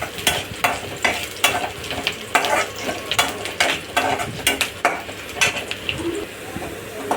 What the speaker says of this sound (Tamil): ஆட் பண்ணி மறுபடியும் கொஞ்ச நேரம் வதக்கிக்கோங்க